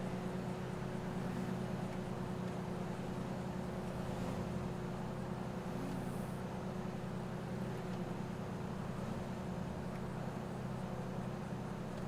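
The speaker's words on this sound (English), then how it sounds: "it has a great sounding engine on it, doesn't it?" A Mustang's throaty, non-V6 engine in a roleplay driving game drones steadily and loudly throughout, a constant low rumble with no break in level.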